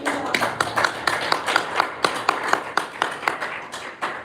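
Sharp claps ring out in a steady, somewhat sparse rhythm at a school district board meeting, fairly loud and close, with faint murmuring underneath.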